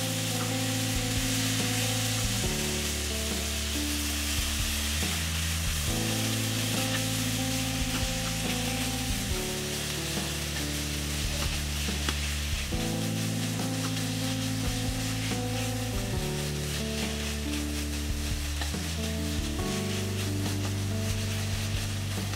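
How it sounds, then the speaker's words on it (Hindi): Chicken pieces stir-fried in a hot pan with nothing added, a steady close sizzle broken by repeated scraping stirs every few seconds, no voices. "यहाँ मैं चिकन को क्या बोलते हैं फ्राई करूँगी"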